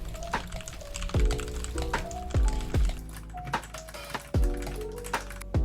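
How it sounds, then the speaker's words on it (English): Computer keyboard typing picked up by a noise-reducing microphone: sharp, distinct key taps in an irregular rhythm, close and clear, with no one talking. "This is what the mic sounds like recording a keyboard."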